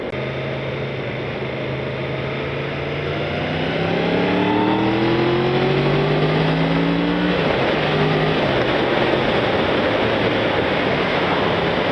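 Yamaha MT10 motorcycle engine revving hard through the gears as it accelerates, rising pitch sweeps repeating several times over steady road and wind roar, loud and close with no talk.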